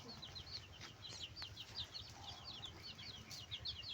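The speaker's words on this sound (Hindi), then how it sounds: "छोटी छोटी मुर्गियाँ चुप के बैठी हुई हैं, इधर आके दिखाओ" Small chickens cluck in quick, chirpy bursts that repeat steadily through the clip, close by over a low hum of background noise.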